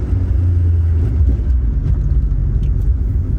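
A Toyota AE86 GTS engine accelerating hard gives a loud, steady low rumble heard from inside the car, with no talk.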